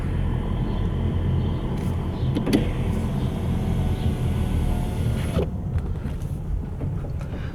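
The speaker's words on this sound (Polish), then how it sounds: "No i teraz po odpaleniu silnika, który już zdążył ostygnąć" A 2015 Mercedes C220d diesel engine idles after a restart once cooled, a steady low rumble, even and unbroken, with a faint mechanical hum and a brief click partway through.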